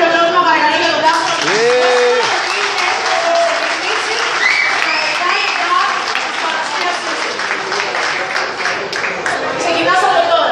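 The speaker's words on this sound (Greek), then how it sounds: "Ένα χειροκρότημα παρακαλώ για τον Τάσο." Loud, steady audience applause with some crowd chatter at a Sauza Tequila cocktail bartending final, continuous clapping throughout as a host is welcomed on stage.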